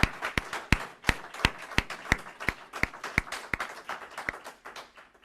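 A small workshop audience at a climate resilience event claps for the presenters. Sparse, distinct hand claps come from only a handful of people, spaced unevenly and fairly close, with no talking over them.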